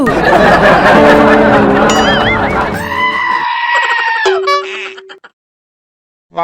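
Goats and sheep bleat on a farm, several loud overlapping wavering calls close by, followed by a few higher bleats that trail off into silence near the end.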